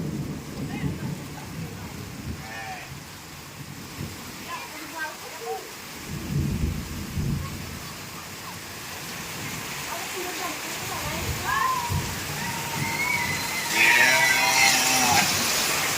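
Steady rain falls throughout with deep rumbles of thunder rolling in several times; voices speak faintly in the background.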